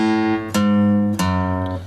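A bass roll down played on guitar, with three close, clear strums of ringing chords, each sustaining until the next as the lower notes step downward.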